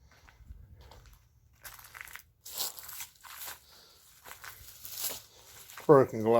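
Footsteps crunch over broken glass inside an old house at Fort Ritchie, Maryland, with irregular gritty crackles and crushing steps close by, between quieter pauses, and a voice briefly at the end.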